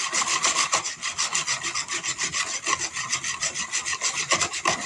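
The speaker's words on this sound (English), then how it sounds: "We're just going to pour in this whole pack and stir it while we pour it." Steady rhythmic scraping and rubbing of a utensil stirring jelly powder briskly into liquid against the bottom of a pot, continuous and close.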